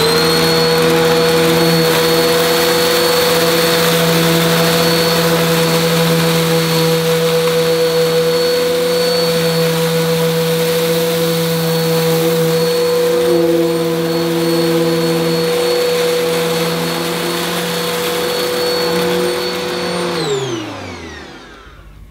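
A Samsung Quiet Jet upright vacuum cleaner with an empty fleece bag runs steadily and loudly close by, giving a constant whining motor drone with a high tonal whistle while it makes passes over a floor thick with debris, then winds down at the end.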